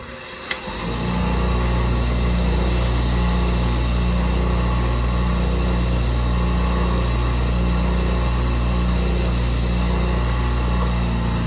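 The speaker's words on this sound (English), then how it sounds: "Anytime you work with a grinder like this, you need to be very, very, very careful." An angle grinder starts up and runs steadily while grinding down the edges of a cigar box guitar part. Its motor gives a loud, unbroken drone close by, with no talk.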